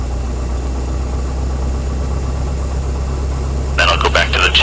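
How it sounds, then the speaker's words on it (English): A Diamond Star DA40 light aircraft engine idles at low throttle, a steady low drone and rumble running throughout, close and loud, with a voice briefly talking over it near the end. "we're just going to bring the throttle to idle"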